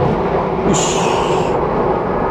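A train rumbles steadily over a railway junction near Kutoarjo station with a continuous broadband roar, a brief high metallic squeal rising over it midway, no voices.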